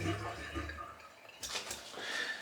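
Water runs over a shaving brush to rinse out the lather. The flow is faint and close, then gives a brief louder splash near the end, with no talk.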